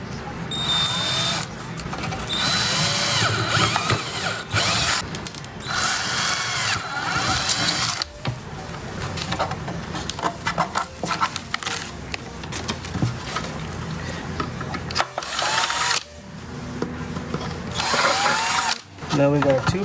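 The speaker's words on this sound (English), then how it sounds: "We're going to drill the front holes first." A power drill whirs loudly and steadily, drilling mounting holes in a vehicle dashboard, speeding up and slowing in bursts, with short pauses and some mechanical clatter.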